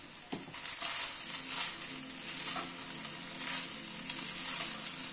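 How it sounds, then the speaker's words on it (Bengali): Rice for veg kofta rice being stirred in a hot pan after sugar is added, giving a steady close sizzle with soft scraping and shuffling of grains throughout, no voices. "দিয়ে একটু নাড়াচাড়া করে নিচ্ছি ভাতটাকে।"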